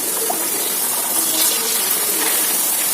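Batter fries in hot oil with a steady, dense hiss of bubbling that holds at an even, fairly loud level throughout, close up and without any voices.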